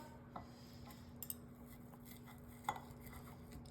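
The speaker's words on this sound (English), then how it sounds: "let's go ahead and cut into that pork chop" A knife and fork work through a cooked pork chop on a plate, giving soft scraping and a few light clinks of metal against the dish, with one sharper tap near the end, all faint and close with no talking.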